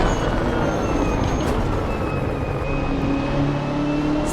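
A modded race car engine in Assetto Corsa at Road Atlanta roars loud and steady the whole time, with faint whining tones over a dense rumble and no talking.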